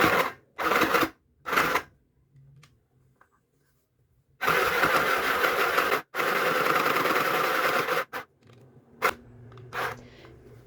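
A portable mini sewing machine stitches a pillowcase in loud, close whirring bursts: two short runs, a pause, then two long continuous runs and a few brief taps, with near silence between.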